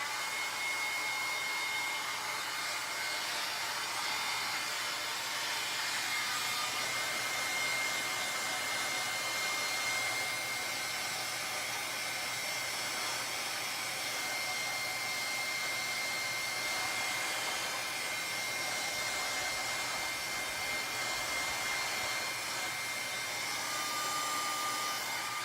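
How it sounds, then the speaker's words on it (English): A heat gun blows continuously in a steady, even rush of air for the whole stretch, drying a watercolor card up close with no pauses or talk. "I'm gonna blast this with my heat gun real quick"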